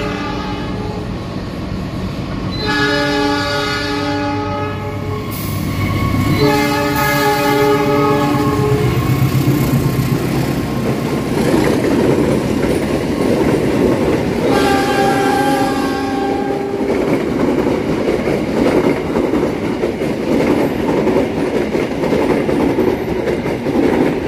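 The King Willis passenger train, Bandung to Surabaya Gubeng, rumbles close by, its loud multi-tone horn blasting in several long bursts over the steady roar of the cars.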